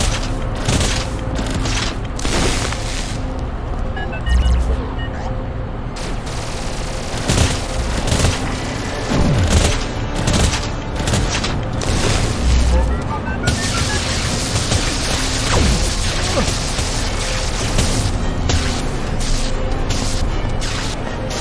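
A heavy weapon fires repeatedly in the VR shooter Boiling Steel, loud percussive blasts and bursts scattered across the scene amid crashes and mechanical clatter, with intermittent speech under the gunfire.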